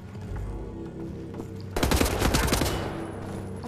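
Twin pistols fire in a Wolfenstein shooter game, a sudden rapid burst of loud overlapping shots that starts abruptly after a stretch of low droning background and rattles on for nearly two seconds.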